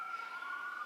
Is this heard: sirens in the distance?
yes